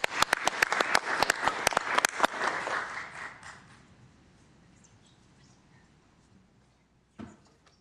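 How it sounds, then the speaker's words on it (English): A round of applause at a Mountain View city council meeting: a brief burst of sharp, fairly sparse clapping from a small room that thins out and fades within a few seconds, followed by near quiet and a single soft thump. "So let's give a round of applause for our Compassion Week."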